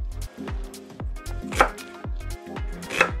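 A knife slices an onion on a cutting board in a steady rhythm of about two solid, close chops per second, each a crisp thud with a slight crunch, no talking.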